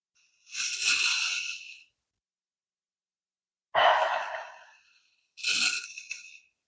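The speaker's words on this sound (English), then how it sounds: "Inhale. Exhale." Three deep, audible yoga breaths close to the mic, a long airy exhale followed by a pause and two more breaths, each rising quickly and then fading, with silence between them.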